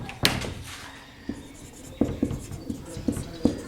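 A teacher writes on a board during a Class 12 maths lesson, producing a series of distinct taps and scratchy strokes in an irregular rhythm, close and moderately loud in a quiet room.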